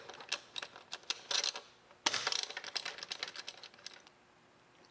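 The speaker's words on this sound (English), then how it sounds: "First thing you want to do is remove the coil pack cover bolts." Quick metallic clicks and ratcheting taps from a wrench working the 10mm coil pack cover bolts on a Dodge Challenger, irregular bursts close up, with a louder cluster midway and no talking.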